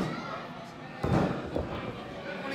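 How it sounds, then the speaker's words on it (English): A wrestler lands a shooting star press in the ring, giving a single heavy thud over steady crowd noise and commentary. "nice shooting star press"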